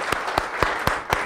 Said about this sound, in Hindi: ताली बजा दो इसके दीवार।